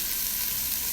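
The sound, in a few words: brown rice frying in oil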